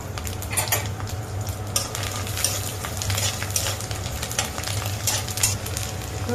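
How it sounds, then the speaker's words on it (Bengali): Garlic cloves stirred and fried in mustard oil, a constant sizzle broken by repeated scraping and clinking of a spatula against the pan, close and busy throughout. "রসুনগুলোকে তেলে নাড়াচাড়া করে ভালোভাবে নেড়ে নিতে হবে যেন লেগে না যায়"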